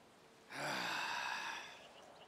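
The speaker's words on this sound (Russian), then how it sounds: "Мощный выдох." A GTA 5 game character lets out a powerful breathy exhale, a single close hiss of air lasting about a second before fading.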